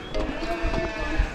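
A sheep bleats close by in the open meadows of Baisaran Valley, Pahalgam, among other shuffling farm sounds, with faint voices nearby.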